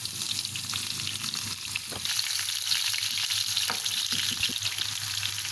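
Onions sizzle steadily in hot oil, about one cup, in a pan during cooking of kadhi pakora, a continuous crackling fry with occasional stirring clinks, fairly quiet and without speech.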